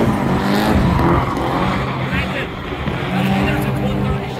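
A drift car laps Utah Motorsports Campus during an import car show. Loud, sustained engine roar and tire noise are heard from inside the car, with voices talking over them.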